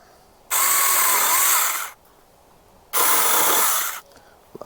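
A Saker cordless mini chainsaw cuts through a wooden dowel in two loud, steady bursts of about one and a half seconds each, with quiet pauses between them.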